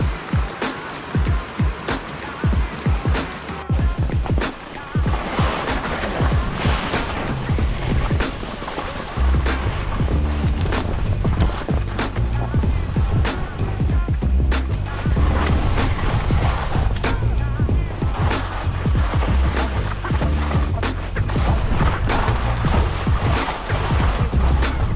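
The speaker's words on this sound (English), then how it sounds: "Couldn't resist a fill up at this beautiful creek." A mountain creek in the snowy White Mountains rushes steadily and loudly, its broad, unbroken wash of flowing water running alone for the whole stretch with no voices.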